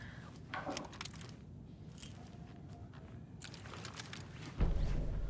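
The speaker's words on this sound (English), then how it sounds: "You'll need these keys." Keys jangle faintly in the video game Alan Wake 2, a soft metallic clinking over a steady low ambient hum, ending in a louder thump.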